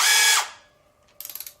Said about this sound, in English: Make sure our drill is doing what we're supposed to.